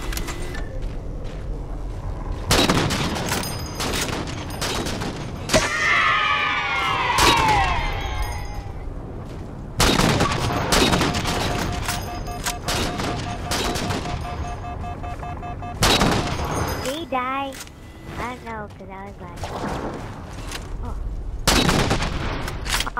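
Rapid bursts of gunfire and heavy weapon shots in the Halo 4 campaign, repeated volleys and sustained automatic fire interspersed with quieter gaps.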